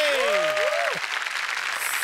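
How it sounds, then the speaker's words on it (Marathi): An audience claps in a burst of applause at a Marathi comedy show, broad and steady for about two seconds, with swooping whistle-like tones sliding over it at the start. "जोरात टाळ्या आनंद सरांसाठी"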